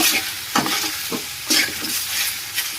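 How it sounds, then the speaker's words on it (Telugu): Chicken pieces coated in ginger paste being stirred in a kadai for hotel-style chicken roast, repeated scraping strokes of a spoon against the pan over a steady close sizzle. "కళాయిలో వేసి ఈ విధంగా ముక్కలకి అల్లం పేస్ట్ అంతా పడుతున్నట్లు వేయాలి. కలుపుపెట్టుకోవాలి బాగా."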